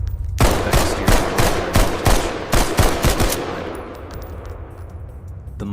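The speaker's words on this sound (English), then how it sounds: "The muzzle on David's 9mm flashed brightly in the darkness on the stairs" A rapid series of 9mm pistol gunshots fired in darkness on a stairway, about eight sharp loud cracks in quick succession over three seconds, followed by a fading reverberant tail with no voices.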